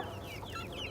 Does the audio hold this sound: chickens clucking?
yes